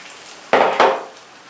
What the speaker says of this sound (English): Saute some aromatic ingredients in the wok. We have minced ginger,